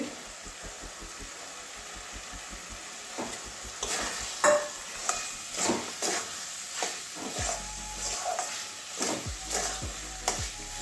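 Potatoes and pointed gourd go into a pan of fried-down spice paste and are stirred, giving a soft sizzle under repeated scraping and knocking of a spoon against the pan, close and moderately loud, with no talking.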